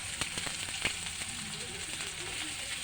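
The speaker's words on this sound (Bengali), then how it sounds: "পেঁয়াজগুলো একটু ভেজে নেবে লাল লাল করে" Onions frying in hot oil with bay leaf and whole cumin, a steady dense sizzle with scattered small pops and crackles, close and continuous, no speech.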